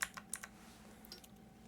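Computer keyboard keys pressed while playing Batman: Arkham Origins, a few quick separate clicks clustered at the start, then sparse fainter taps over a steady low hum.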